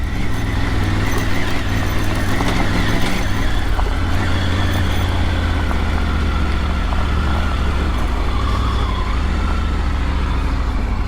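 A Triumph Tiger 900 motorcycle climbs a rocky, wet trail up Canfield Mountain, its engine a loud, continuous rumble heard close up with wind and rough-surface clatter mixed in.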